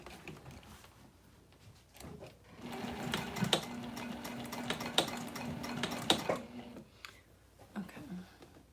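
A sewing machine stitching in a burst of rapid mechanical chatter lasting a few seconds, close and clear, with light handling clicks before and after.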